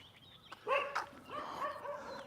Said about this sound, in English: A lot of barking for a minute.